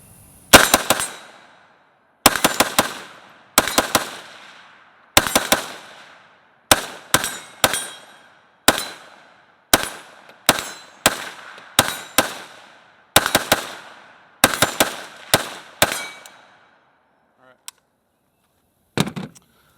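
A PSAK GF3 12.5-inch AK pistol with a muzzle brake, fed from a US Palm magazine, fires about a dozen sharp, loud shots, singly and in quick pairs and triplets, each ringing out outdoors, followed by a couple of faint clicks and a final thud.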